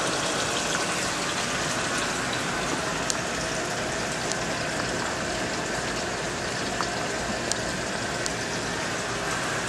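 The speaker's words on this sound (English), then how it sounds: "the drain, the 3/4 inch opening, goes right into my sedimentation tank" Water pours steadily from a three-quarter-inch drain opening of a sea urchin crate into a sedimentation tank, a constant splashing rush with no pauses and no voices.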